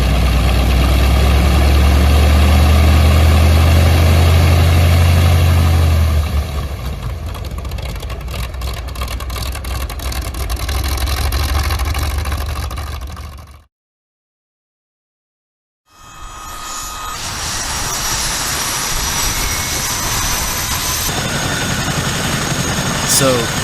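A Chinook helicopter's engines run, a loud low rumbling throb with steady rotor pulsing, heard under talk; it breaks off into brief silence, then returns as a brighter whining turbine sound.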